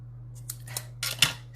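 Scissors snip through paper in a few quick, close cuts, each a short crisp slice over a faint steady hum, with no talk.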